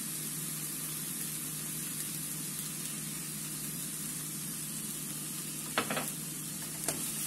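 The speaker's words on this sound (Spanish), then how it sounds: "y freímos muy bien." Ingredients seasoned with achiote and garlic powder fry in a pan for a macaroni stew base, giving a steady, fairly quiet sizzling hiss with a couple of brief clinks near the end.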